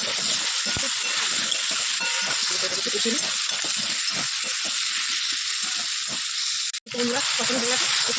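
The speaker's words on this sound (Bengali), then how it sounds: "এখানে দিয়ে দিয়েছি জিরা ফোড়ন, শুকনো লঙ্কা দিলাম" Cumin seeds and dried chillies crackle and sizzle as they are tempered in hot oil, a steady close frying hiss heard beneath a person talking.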